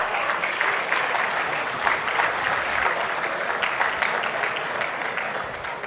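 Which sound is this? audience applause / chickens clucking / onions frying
audience applause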